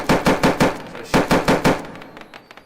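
In a VR shooter game still in development, a gun fires two quick bursts of four or five loud, evenly spaced shots, followed by fainter trailing clicks.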